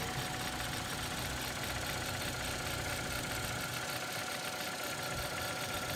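A Hyundai Veloster's 1.6 litre GDI petrol engine idles steadily, a constant dense mechanical hum and whir held at an even level for the whole stretch, close by with no talk over it.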